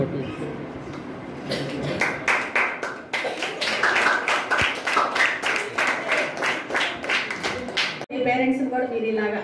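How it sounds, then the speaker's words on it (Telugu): At a community event where exam supplies are handed out to students, a crowd claps in sharp, rhythmic bursts that swell and continue for several seconds, then cut off abruptly as talking takes over. "చప్పట్లు కొట్టు"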